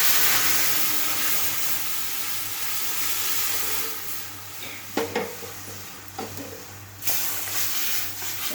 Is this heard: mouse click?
no